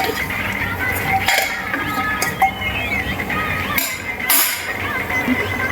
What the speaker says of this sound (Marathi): आता आपण ह्या भाज्या परतून घेऊया